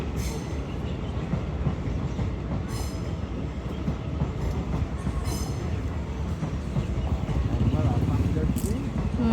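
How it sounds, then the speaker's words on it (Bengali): An Indian Army train rolls past on the tracks, a steady rumbling wheel clatter with occasional squeals that grows a little louder toward the end, with voices heard along with it. "O army train,"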